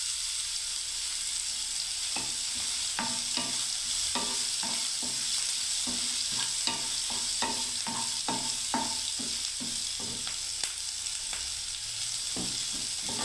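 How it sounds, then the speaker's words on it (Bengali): Curry leaves hit hot oil for a vegetable biryani, giving a steady, loud sizzling hiss broken by a run of sharp spatters and the clicks of a spoon stirring through the pan. No one speaks. "এবারে বন্ধুরা দেখুন আমি কারি পাতাটা দিয়ে দিচ্ছি।"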